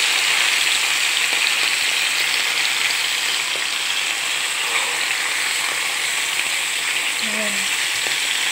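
Salmon sizzles steadily in hot oil with garlic and ginger, a dense, continuous frying hiss that stays loud and even throughout with no talk over it.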